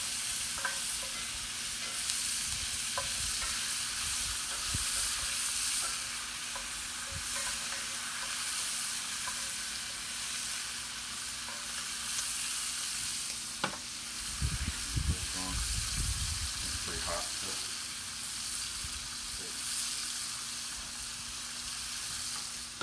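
Food browning on a hot Big Green Egg, with a steady sizzle and frying hiss throughout, occasional stirring scrapes and a burst of louder crackle midway.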